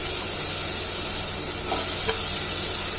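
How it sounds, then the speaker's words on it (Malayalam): Taro pieces drop into a hot pan and sizzle steadily, a dense frying hiss with light stirring scrapes, close and fairly loud with no talk. "അതിലേക്ക് നമുക്ക് കഷ്ണങ്ങൾ ഇട്ട് കൊടുക്കാം."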